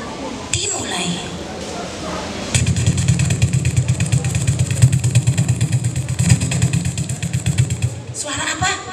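A storyteller's voice imitates a scooter engine, giving a steady buzzing drone with rhythmic pulsing that holds for several seconds at fairly loud level, opening and closing with brief vocal sounds.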